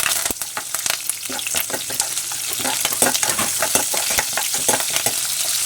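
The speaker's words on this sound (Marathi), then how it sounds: "त्यात जिरे घालायचे आहेत धणे घालायचे आहेत तीळ घालायचे आहेत मिरच्या घालायच्या आहेत कढीपत्ता घालायचा आहे तर भाजून घ्यायचं" Cumin, coriander seeds, sesame, chilies and curry leaves crackle and spit in hot oil for a dhokla tempering, a close busy run of sharp pops over a continuous sizzle, with occasional spoon scrapes.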